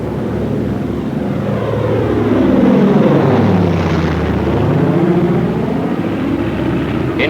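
Douglas A-20 attack bomber in a dive, its propeller engines roaring loud and continuous, pitch sweeping and swelling as it passes.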